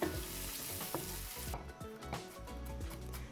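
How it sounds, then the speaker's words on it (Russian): Close, loud sizzling of garlic and mushrooms frying in a hot pan, with crackles and the scrape of stirring. "Отправляем нарезанный чеснок в сковородку к грибам и обжариваем буквально 30 секунд"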